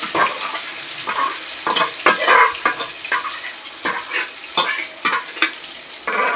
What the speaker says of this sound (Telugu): ఆయిల్లోకి మనం చికెన్ని వేయాలి